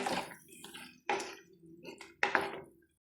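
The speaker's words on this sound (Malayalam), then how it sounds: "ഇനി ഇതിലേക്ക് ഞാൻ ഒഴിച്ച് കൊടുക്കുന്നത് അരമുറി ചെറുനാരങ്ങയുടെ നീരാണ്." Half a lemon's juice is poured over beef liver in a kitchen. Three short, soft, wet splashing bursts land close by, each fading quickly, with quiet gaps between them.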